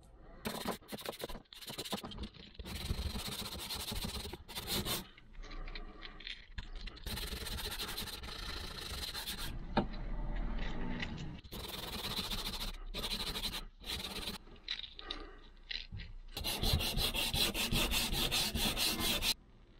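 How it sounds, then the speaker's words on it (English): Sandpaper rubs along the edge of a Volvo V70 windshield in bursts of rapid back-and-forth scraping strokes, close and steady, with short pauses between passes and no talking. "I use the sandpaper to clean the edge, like that."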